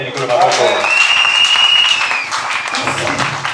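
A church congregation applauds in acclaim of the Lord, with a continuous wash of many hands clapping in a large room, loud and sustained, while a voice speaks and a high tone rings over it.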